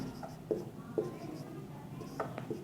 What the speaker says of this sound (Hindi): चाल का सबसे पहले हम फॉर्मूला लिखते हैं।